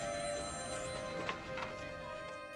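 A telephone rings in a mercenary action film, a steady electronic ringing tone with a sustained pitch and faint rhythmic pulses, heard alone at moderate volume without talk.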